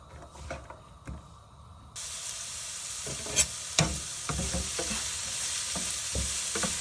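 A vegan burger mixture with lentils is stirred in a hot pan, a steady sizzle rising after a quieter start, with several sharp scrapes and clacks of a utensil, no speech.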